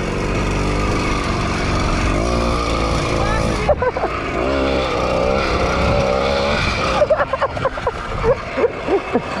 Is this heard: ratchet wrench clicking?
no